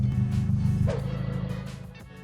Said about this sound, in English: And after that, I let the car idle once more.